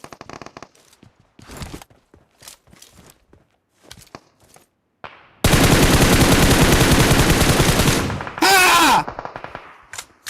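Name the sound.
gunfire in PUBG Mobile video game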